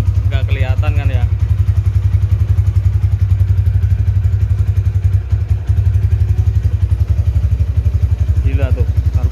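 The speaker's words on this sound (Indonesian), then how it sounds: "Gila tuh, knalpotnya tuh suaranya tuh. Stasioner di atas satu nih." A Honda Tiger Revo motorcycle idles with a loud, steady, deep exhaust rumble close by, and a person talks briefly over it near the start and the end.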